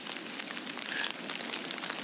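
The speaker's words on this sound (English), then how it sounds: "It's freezing rain crap, and it's going to be a chore getting out of here in a day." Freezing rain falling during a backpacking trip in Dolly Sods, a steady broadband patter that stays close and even throughout, with no voices over it.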